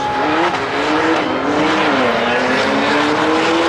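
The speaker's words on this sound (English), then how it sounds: "Now we got CLEETUS in the Porsche against Kyle, the boosted boy over there in that Tesla E-Roy" A Porsche and a Tesla race side by side down a drag strip at an open track night, making a loud, continuous engine roar with shifting pitch and rushing road noise that fills the scene, close and without pauses.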